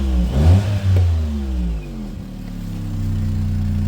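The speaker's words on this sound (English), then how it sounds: "There's a bad blow just here where the tailpipe joins the back box." A car engine revs up and settles back to a steady idle close by, with the exhaust blowing at a leaking tailpipe joint on the rear silencer, where a stud has snapped, giving a rough, chuffing note.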